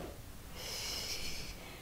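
A single long exhale during a mat exercise session, a soft airy rush of breath that swells for about a second and fades, close to the microphone and with no talking.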